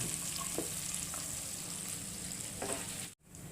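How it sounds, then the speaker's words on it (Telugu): Bay leaf, cinnamon and cloves frying in hot oil while making Afghani chicken curry: a continuous loud sizzle with a few faint stirring knocks, briefly cut by a sudden dropout near the end. "బిర్యానీ ఆకు, చెక్క, అలానే లవంగాలు వేసుకొని దోరగా వేయించుకోవాలి"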